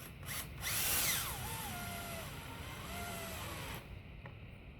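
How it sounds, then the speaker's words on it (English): A power drill bores pilot holes into 2x4 lumber for a wooden bike stand, its motor whining steadily for about four seconds with pitch shifts as the bit bites and eases, close and loud, then cutting off. "drill some pilot holes"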